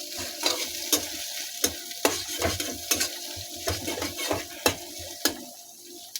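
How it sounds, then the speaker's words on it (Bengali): Onion and chili fry in a pan for a cheap noodle breakfast, with a steady sizzle cut by sharp, regular scrapes and clinks of a spatula stirring close up. "পেঁয়াজ এবং মরিচ উভয়টা সুন্দর করে ভাজি করে নেবেন"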